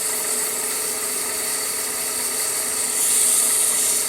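A poplar wood bottle stopper spinning on a lathe under abrasive sandpaper, a steady whirring hiss with a constant motor hum that grows slightly brighter and louder near the end.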